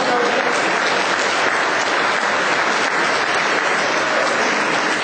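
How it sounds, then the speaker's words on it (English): Sustained, dense applause from an audience at a county sheriff and state patrol forum, loud and even for the whole stretch with no break. "let's give Mr. George a round of applause"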